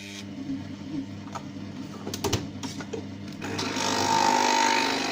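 A small home coffee machine makes a cup in a kitchen: a rhythmic mechanical pump buzz with a few clacks, then a louder, steady hiss as the coffee flows. No talking.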